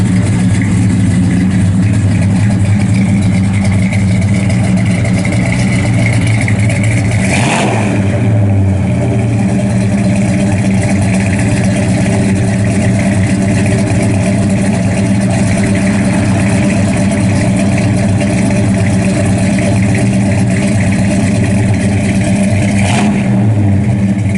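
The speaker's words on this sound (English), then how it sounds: "It's got real good sound exhaust all the way out the back." A 1966 Chevrolet Chevelle SS 396 V8 engine with a cam rumbles loudly and continuously, with deep exhaust burble and two sharp revs that swell and fall back to idle.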